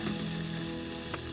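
Food lands in a red hot pan at a camper van campsite, a loud, close, continuous sizzle with crackling spits, with no talking over it.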